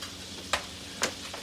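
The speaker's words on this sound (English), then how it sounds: "if you can hear it, my butter is sizzling" Butter sizzling in a hot pan on a wood cookstove: a soft, steady crackle with two brief sharper spits, close but faint, no voices.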